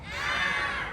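A group of people yells and screams together in a sustained, loud burst of overlapping voices that swells and then holds steady for about a second, with no clear speech.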